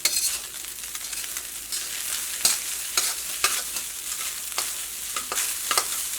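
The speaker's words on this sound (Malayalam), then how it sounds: "തീ അത്യാവശ്യം നന്നായിട്ട് കൂട്ടി വെച്ചിട്ടാണ് ഇങ്ങനെ ഇളക്കി കൊടുക്കണം" Cold rice stir-fried over high heat with vegetables and ghee for restaurant-style fried rice: a loud, continuous sizzle with sharp scrapes and tosses of the spatula at uneven intervals, close up and with no talking.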